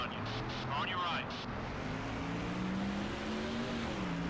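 Race car engines in NASCAR Thunder 2004 drone steadily at a road course in Sonoma, several cars close together, with rising pitch as they accelerate, under a spotter's voice calling positions.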